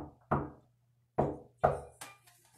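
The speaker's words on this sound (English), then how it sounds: "we have to knock and see if she's ready for us" Three separate knocks on a door sound close and crisp, the first alone and then two in quick succession after a pause, followed by a faint softer tap, with a low steady hum behind them.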